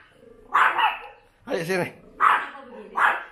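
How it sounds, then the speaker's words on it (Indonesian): A chihuahua barks at guests indoors, several sharp close barks spaced about a second apart, while a person speaks briefly between them. "dia kalau ada tamu memang gonggong"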